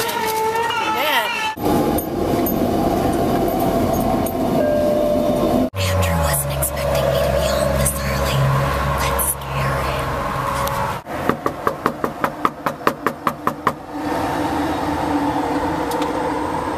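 A SkyTrain passes near a station with a steady rail rumble and a run of rhythmic clicking clatter late in the passage, heard under ongoing talk and background music.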